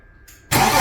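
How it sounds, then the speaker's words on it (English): A naturally aspirated 300 hp BMW M52 engine is started for the first time: near-silence, then a sudden loud, dense roar at about half a second that holds steady to the end. "we can go start the engine for the first time"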